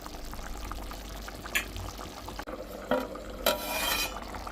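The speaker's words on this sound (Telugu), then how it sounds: "కలుపుకొని ఇప్పుడు ఇది చిక్కగా పడి దగ్గరికి అయ్యేదాకా ఉడికించుకుందాం" Mutton liver curry simmers in a pan with soft continuous bubbling, broken by a few brief stirring scrapes and clinks against the pan toward the end.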